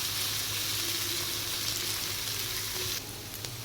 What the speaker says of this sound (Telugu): ఈ దొండకాయలు ఇలా వేగుతూ ఉండగా